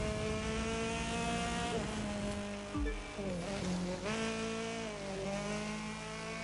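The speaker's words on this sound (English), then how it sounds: "Also, this car doesn't sound that bad either. This thing probably has a like a 4-cylinder in it." Loud video-game car engine from The Crew 2, a tuned four-cylinder racing build, holding a steady high drone with shifting harmonics and a brief dip and rev change midway, running continuously without talk.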